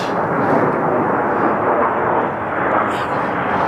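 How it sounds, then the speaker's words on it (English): A continuous low, broadband roar of a military jet aircraft passing overhead, steady and fairly loud throughout with no pauses. "sounds like a military plane of some sort."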